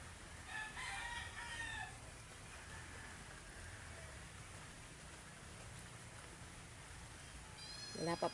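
A rooster crows in the very early morning, two calls at middle distance, one at the start and one at the end, over a steady background hiss like light rain.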